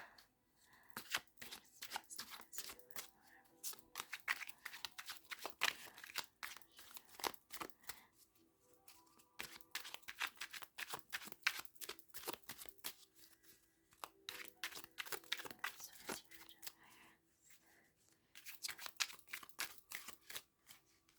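A Modern Witch Tarot deck is shuffled by hand in repeated bursts of soft, rapid card riffling and slapping, close and quiet, with short pauses between rounds and no talking.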